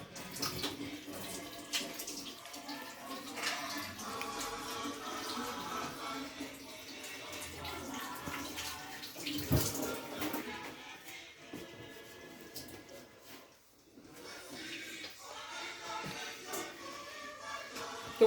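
Tap water running while hands are washed, a continuous splashing hiss with shifting rushes and a brief lull, moderately close and fairly quiet.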